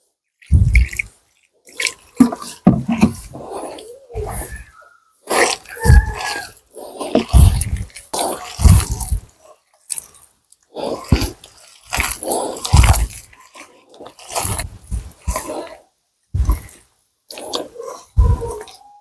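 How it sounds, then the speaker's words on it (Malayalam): Onion pakoda batter is kneaded by hand as water is added little by little, making close, wet squelches and slaps in irregular bursts with short pauses between them. "കുറേശ്ശെ വെള്ളം ഒഴിച്ച് കുഴച്ചെടുക്കണം"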